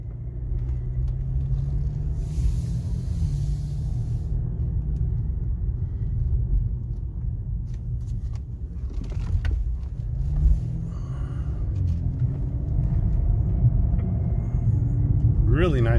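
A 2015 Cadillac CTS-V Sport sedan with a twin-turbo 3.6-liter V6 heard from inside the cabin while driving, giving a steady low engine and road rumble throughout, with no talk over it.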